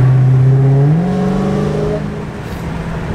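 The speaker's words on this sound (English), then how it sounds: "I'm more worried about that supercharger whine." A supercharged Cummins truck engine pulls hard and loud, its harmonic whine climbing steeply in pitch before settling into a steady high drone as the truck drives on.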